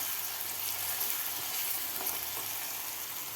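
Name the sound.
sautéing garlic, chilli and ginger paste in a pan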